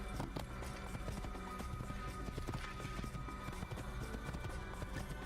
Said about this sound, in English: Okay, just still riding my pony here.